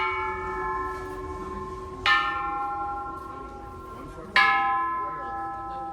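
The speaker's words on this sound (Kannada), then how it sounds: "ಇಲ್ಲೆಲ್ಲ ಈ ಥರ ಬೆಲ್ಸ್ ಎಲ್ಲ ಇದ್ದಾವೆ. ಇದನ್ನು ಹೊಡಿಬೋದು ನಾವು." Metal bells at a big Bangkok market ring out twice, each a sharp strike followed by a long, bright, humming decay, heard fairly close over quiet background murmur.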